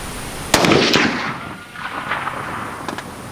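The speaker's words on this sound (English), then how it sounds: "Okay, I shot the dot off." A 350 Legend rifle fires one sharp shot at a target outdoors, a loud crack followed by a short decaying echo, with a fainter pop near the end.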